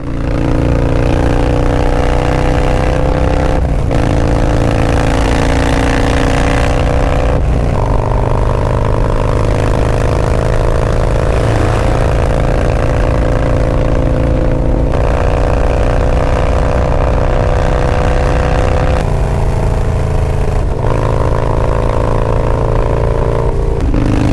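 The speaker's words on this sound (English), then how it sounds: "I'd be damned if that Fab 28 exhaust didn't sound crispy" A Harley-Davidson Low Rider ST motorcycle with a 131 engine and Fab 28 exhaust roars loudly and continuously, its exhaust note rising through the gears with sharp drops at each shift, heard close up.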